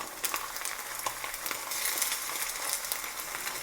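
An egg frying in a pan, a continuous crackling sizzle with small pops and spits, close and moderately loud, no voices.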